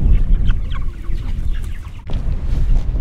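Flock of chickens in a brooder yard on a chicken farm, busy overlapping clucks and calls close by with a brief dip in the middle.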